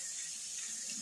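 Water runs through a stick vacuum filter held in a sink, a steady close hiss of flowing water with no break.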